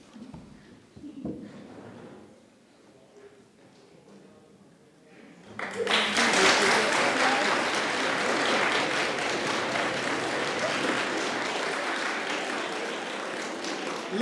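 Following a few quiet seconds of murmuring, a contest audience at an eloquence competition semi-final breaks into loud, sustained applause that fills the room and holds steady to the end.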